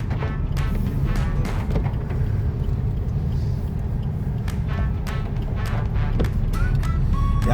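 Car driving up the winding Amboli ghat road, a constant low engine and road rumble from inside the vehicle, with scattered light clicks and rattles over it, no voices.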